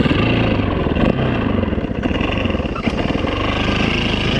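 A 2008 Yamaha WR450F dirt bike engine idles close by, a loud, steady, throbbing rumble with fast regular firing pulses and a few small surges, no voices.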